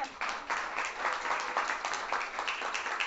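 Audience at a corporate workshop lecture gives a burst of sustained applause, dense, even clapping from many hands that fills the room.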